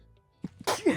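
A single sharp sneeze bursts out after a couple of small sharp intakes of breath, close and fairly loud against a quiet background.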